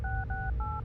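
Telephone keypad dialing tones in the video game Serious Sam: The First Encounter, four quick two-tone beeps in even succession, clear and isolated.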